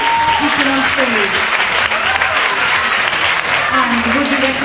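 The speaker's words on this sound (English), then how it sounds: "can we please give her a round of applause for speaking on stage" Audience applause for a contestant at the Miss Glamour 2019 pageant, a steady loud wash of clapping across the whole span with voices and cheers mixed in.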